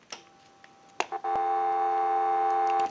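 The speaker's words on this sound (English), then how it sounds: "we'll go ahead and give you some dial tone" A steady, loud telephone dial tone comes on after a few quick clicks and keeps humming without a break.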